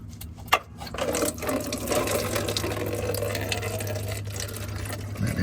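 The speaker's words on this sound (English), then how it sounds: "Let that drain in there" Antifreeze from a Chevrolet Camaro SS with an LT1 engine drains into a pan with a steady trickling, splashing stream that keeps running after a brief clunk.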